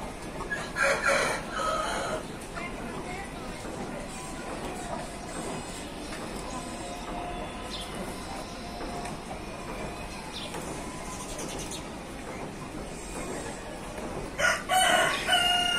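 A rooster at an Aseel fowl farm crows in loud bursts near the start and again near the end, with faint farm noise in between.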